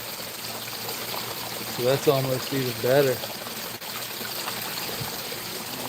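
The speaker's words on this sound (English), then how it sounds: "But now it's hitting towards the back and really splashing towards the back." Water splashes over rocks in a garden stream, a steady close rush throughout with a brief stretch of talk in the middle.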